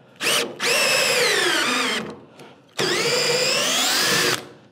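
A castor's threaded stem is driven into a wooden bench leg with a power drill, two long whining runs of the motor with a short pause between, loud and close.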